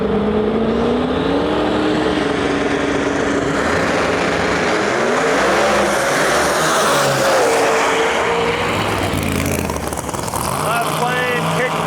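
A hot rod drag racing car at a Lights Out eliminations event, a loud, sustained engine roar with rising pitch as it accelerates, heard over a busy track with a voice talking over it.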